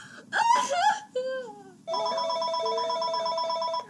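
After a burst of laughter and brief vocal sounds, an in-game phone starts ringing with a bright, repeating electronic trill that pulses steadily to the end.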